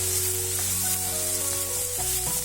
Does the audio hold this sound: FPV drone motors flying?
no